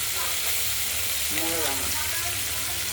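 Small mixed fish, mostly mourala with chanda and chela, fry in hot oil with a steady close sizzle and hiss, a voice briefly heard over it.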